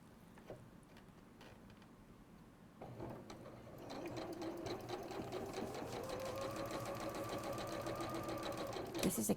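A model 550 sewing machine stitching, its fast, steady mechanical whir and ticking growing louder and more sustained after a quieter start, close by with no talk.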